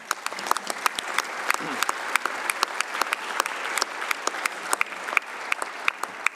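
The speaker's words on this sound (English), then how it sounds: "show your appreciation with a round of applause for all Commission presidents" Sustained audience applause for the Commission presidents at the closing ceremony of the UIA Luxembourg Congress 2019, a broad steady wash of clapping with individual sharp claps standing out near the front.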